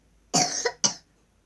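A single close, sharp cough with a short double burst, followed by quiet.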